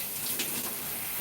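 Water from a tap runs steadily while washed 4c natural hair is rinsed, a soft continuous hiss and splash with no voices.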